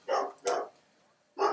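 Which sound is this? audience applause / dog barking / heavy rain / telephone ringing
dog barking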